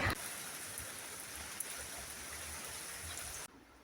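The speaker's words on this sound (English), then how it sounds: "Five minutes away and it's just started raining." Steady rain falls outdoors, a dense, even hiss of drops that continues for several seconds before cutting off abruptly near the end, with no talk over it.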